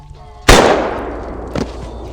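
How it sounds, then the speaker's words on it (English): A single loud, sharp blast from a homemade gun in the video game Dead World, decaying into a long echoing tail, with a fainter second crack following about a second later. "Fucking homemade gun."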